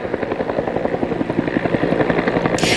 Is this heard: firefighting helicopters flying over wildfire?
yes